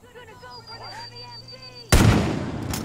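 Gunfire erupts in the video game Far Cry 5: after a stretch of quieter ambient game sound, a loud, abrupt burst of shots hits near and close, then rumbles on at high intensity to the end.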